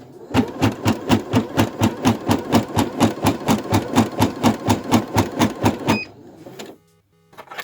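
An embroidery sewing machine stitches a patch with a fast, steady mechanical chatter of evenly spaced needle strokes, loud and close for about six seconds before stopping, followed by quiet motor hum.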